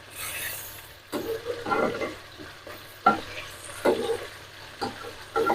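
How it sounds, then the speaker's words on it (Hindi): Fish frying in oil, stirred and turned in the pan, with a steady sizzle and repeated scraping, scooping strokes at an irregular rhythm, close up. "मछली डाल के मैंने 2 मिनट तक इसको हिलाया नहीं, इसकी साइड नहीं बदली। अब इसको हिलाते हैं।"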